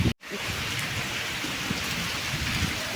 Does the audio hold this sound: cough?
no